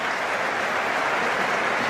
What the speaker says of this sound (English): String of applause around Stamford Bridge for that Cole Palmer pass